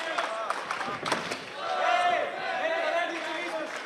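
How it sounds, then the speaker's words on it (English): Crowd at a live FFC 29 fight event cheering and shouting for a fighter, a dense roar of many voices with scattered yells and claps, steady and fairly loud throughout. "You can hear all the crowd behind us cheering Petje on."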